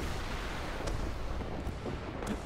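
A missile launching in the War Thunder tank game, heard as a low, dense rumbling roar with a few sharper bursts riding on top, loud and sustained, with no talk over it.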